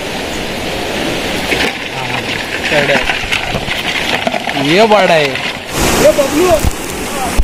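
Heavy rain pours steadily during crab catching at Talavade near Rajapur in the Konkan, a dense continuous hiss with people talking over it.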